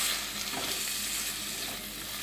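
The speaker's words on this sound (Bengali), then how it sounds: "এখন মশলার সাথে ভালোভাবে আমি মুগ ডালটাকে কষিয়ে নেব।" Mung dal being stir-fried with spices in a pan for a Bengali vegetarian pointed-gourd dish, a soft continuous sizzle with light scraping and stirring of the spoon, quiet and close, no talking.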